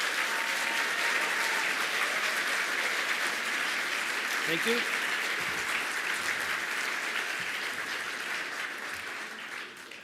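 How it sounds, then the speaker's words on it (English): An audience at a corporate event claps in a long, even round of applause lasting about ten seconds, with a voice speaking briefly over it as it slowly eases off. "please give them a round of applause."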